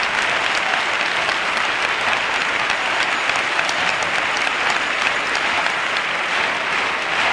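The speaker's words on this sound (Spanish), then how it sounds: "Gran ovación del público y gritos de chirigota, chirigota para los de Capuchinos" A dense, loud ovation from the carnival audience greets a Cádiz chirigota group, unbroken roaring applause with mixed cheering that stays at full strength from start to finish.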